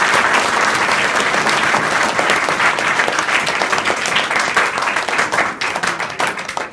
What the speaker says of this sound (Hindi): बड़ी लंबी ताली बज रही है